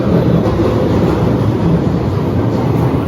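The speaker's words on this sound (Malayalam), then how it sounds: "നമ്മൾ ട്രെയിൻ പോകുമ്പോഴൊക്കെ ഇവിടെ കുലുങ്ങുന്നുണ്ട്" A London Underground Victoria line train rattles along at speed, a steady loud rumble and roar heard from inside the carriage with no talk.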